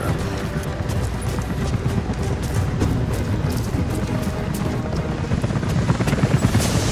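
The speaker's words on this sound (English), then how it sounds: "helicopters are headed your way." Helicopters approaching in the video game Rise of the Tomb Raider, a dense continuous rotor thumping and rumble that holds steady and swells slightly toward the end, with no voices.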